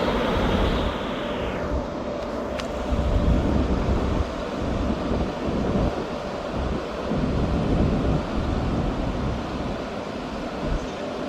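The 12:39 Scotrail service pulls out of Dundee station toward Edinburgh Waverley, a continuous deep rumble of the departing train mixed with buffeting wind noise, steady and fairly loud across the whole stretch.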